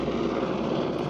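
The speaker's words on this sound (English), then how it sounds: "Got helicopters going by as well now." Coast Guard helicopter flying past over a cliff edge, a loud, steady engine and rotor drone filling a brief moment with no voices.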